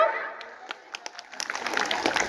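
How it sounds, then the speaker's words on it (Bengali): Scattered claps build into fuller applause from a crowd at a women's rally, starting sparse and thickening over a couple of seconds, with some talk at the start. "এর জন্য কি আমরা একটা করতালি দিতে পারি না?"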